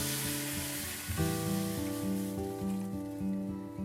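Water poured into a hot clay pot of stir-fried orange peels sets off a steady, close crackling sizzle that fades slightly, with soft music playing underneath.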